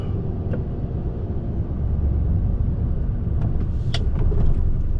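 A car driving slowly into a tight car park through a gate, its engine a steady low rumble close by, with faint clicks and rattles over the top and no talking.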